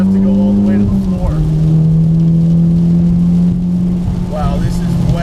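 Modified Mitsubishi Evo X engine droning and revving on a wet track, a loud sustained tone that drops at a gear change and then holds steady, with a voice talking over it.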